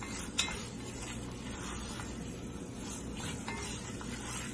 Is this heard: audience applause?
no